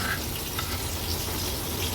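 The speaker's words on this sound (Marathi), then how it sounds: "मागची बाजू पण जवळपास 1 मिनिटभरासाठी तळून घेणार आहे" Tarli fish, Agri Koli style, fries in oil in a pan with a steady, even sizzle that holds at moderate level throughout, with no talk over it.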